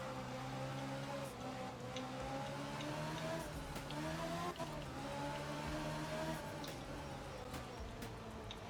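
A rally car in a racing video game on the Sardinia stage, its engine droning steadily with a sustained harmonic whine and small shifts in pitch, loud and continuous throughout with no speech.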